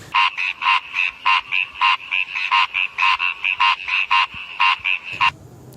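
A human voice imitates a frog's croak with a fast, loud series of about twenty rhythmic nasal croaking pulses close to the microphone, then stops abruptly.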